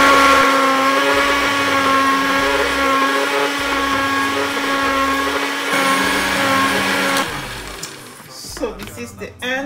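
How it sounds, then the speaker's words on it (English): A blender runs steadily while blending a five-ingredient smoothie, its motor whine loud and continuous with a few brief shifts in pitch before it slows and gives way to clattering near the end. "I've blended it very nicely."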